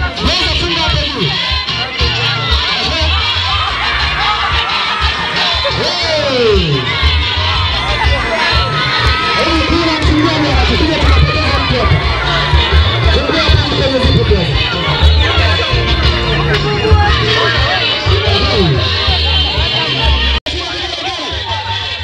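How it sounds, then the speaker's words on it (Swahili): A lively crowd of women at a Chama cha Mapinduzi celebration, loud and close, with continuous cheering, shouting and high warbling ululation over mixed clapping and babble, sustained throughout. "haitoshi makofi na vigelegele kwake."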